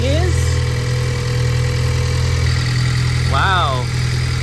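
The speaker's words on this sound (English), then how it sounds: "Starting the Bronco." A 6th-generation Ford Bronco with a 2.3L or 2.7L engine idles steadily with a deep, continuous rumble close by, and a brief chirp and whine rise over it partway through.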